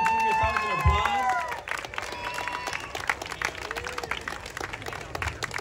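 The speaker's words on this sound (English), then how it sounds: "So can you all give yourselves an applause?" An outdoor crowd at a chilly evening tree lighting ceremony claps and cheers, strongest at the start with a whistle-like tone and voices, then thinning to scattered clapping under chatter.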